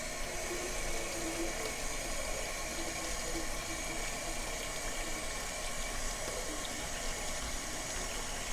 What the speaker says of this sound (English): you're just going to turn the bath water on